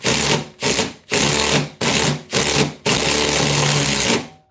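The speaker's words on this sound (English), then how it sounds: "It does have enough power to strip out a Tapcon. It just doesn't do it very easily." A compact cordless Milwaukee drill drives a Tapcon concrete screw in six short bursts of whirring, each starting and stopping sharply, the last burst longest.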